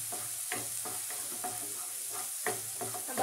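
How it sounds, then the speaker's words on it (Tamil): Cardamom pods and a piece of cinnamon sizzle steadily in melted butter for paneer butter masala, a constant close frying hiss broken by soft stirring scrapes of a spoon in the pan. "பேலன்ஸ் இருக்கிற பட்டரை ஆட் பண்ணி மூணு ஏலக்காய் ஒரு துண்டு பட்டை ஆட் பண்ணி"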